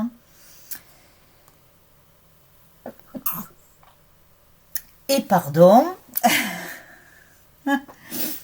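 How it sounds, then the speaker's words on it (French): After a few quiet clicks, a sudden loud sneeze bursts out, followed by a sniff and a brief spoken apology. "ils m'ont fait éternuer"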